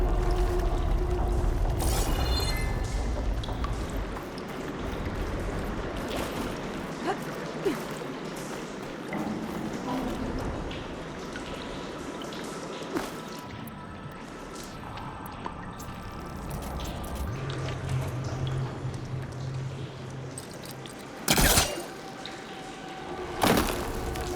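Water circulates through pipes and valve machinery in the video game Horizon Forbidden West, with steady rushing flow, mechanical creaks and drips, and a couple of sharp clanks near the end, continuous and mid-distance.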